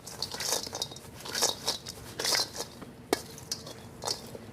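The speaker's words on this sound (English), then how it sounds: "I'm going to mix that together a little bit." Shredded Brussels sprout salad with dried cranberries being tossed and mixed in a bowl, giving a rhythmic series of soft scraping, rustling strokes with a few light clinks of utensil against the dish, close and fairly quiet.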